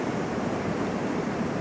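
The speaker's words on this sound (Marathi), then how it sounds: "हे पहा किती पाणी वाहत आहे." A swollen river rushing strongly during a Ganpati immersion, a loud continuous roar of flowing water filling the whole moment without any voices.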